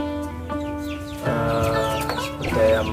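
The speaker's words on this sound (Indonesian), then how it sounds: "Ayam Birma ini" A year-old Burmese chicken clucks close by in a series of loud, nasal, rising and falling calls, with a steady electrical hum underneath.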